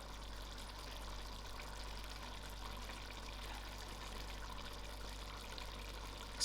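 Boiled dhal poured slowly into a pot for chicken dhal gosht, giving a steady soft liquid trickle and slosh that runs faint and continuous without a break.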